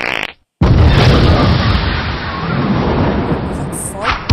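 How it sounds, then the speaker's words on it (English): A loud, long, rumbling fart blast from the Doodieman game, bursting in after a brief silence and sustained for several seconds with a thick, thundery roar. "Is that fart?"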